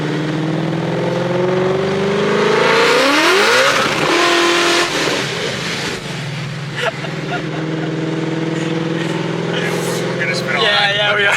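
A car engine revving hard at a South Florida car meet, loud and close, rising in pitch, dropping through a gear change, then settling into a steady throaty drone, with people talking over it.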